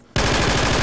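Automatic gunfire in the Insurgency video game bursts in suddenly after a quiet instant, a loud, close, fast rattle of shots that runs to the end.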